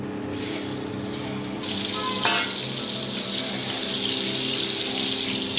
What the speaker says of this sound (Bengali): এবার এর মধ্যে আমরা আলুগুলো ছেড়ে দেবো